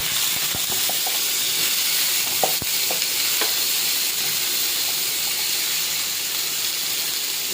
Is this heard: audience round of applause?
no